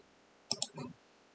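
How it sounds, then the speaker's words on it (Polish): Quiet computer mouse clicks while placing a point in Fusion 360: two quick soft clicks followed by a brief muffled rustle, close and faint against a low background hiss. "Klikam sobie punkt."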